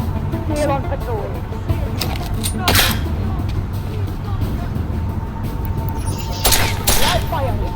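Gunfire crackles in Deus Ex: Mankind Divided, with a couple of sharp bursts rising over constant game ambience. Characters talk through the clip.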